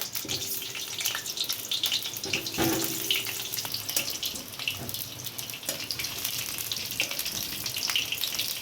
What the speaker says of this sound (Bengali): এবার আলুগুলোকে একে একে আমি ভেজে নেব।